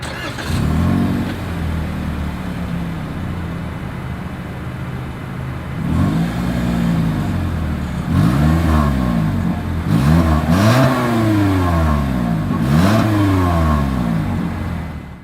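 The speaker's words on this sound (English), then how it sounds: "as always, here is that exhaust clip" A 2023 Toyota Corolla revs repeatedly through the exhaust in the rain, loud rising and falling roars in quick bursts after an idling start, close by.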